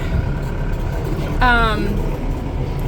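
A small tractor loader's engine rumbles steadily in freezing cold weather while its hydraulics struggle. A brief voice cuts in over the low, continuous drone.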